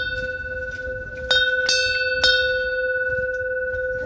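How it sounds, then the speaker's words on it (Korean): A copper wind chime with a fish hanging from the eaves in central Seoul is struck three times in close succession. Each clear, bright tone rings on with a long, shimmering sustain over soft outdoor background noise. "처마에 매달려 있는 풍경인데요."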